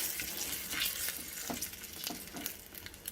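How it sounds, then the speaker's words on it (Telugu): Drumstick leaves fry in hot oil in a pan while a brinjal and peanut chutney is cooked, a continuous close sizzle with occasional stirring scrapes and no talking. "కరివేపాకు బదులు మునగాకు వేసుకోవాలండి"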